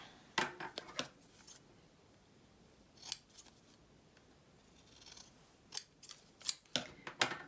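Scissors snipping paper to make book page pockets, a series of crisp, close cuts in short clusters separated by quiet pauses, with no talking.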